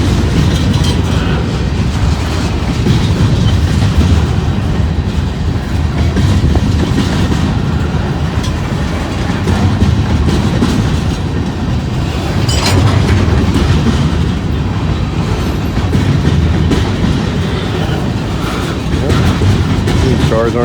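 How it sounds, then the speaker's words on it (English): Long freight train passing close by, returning south to carry steel slabs: a loud, continuous rumble and clatter of rolling wagons with rhythmic wheel clicks over rail joints, sustained throughout. "This train will go back south with steel slabs in it."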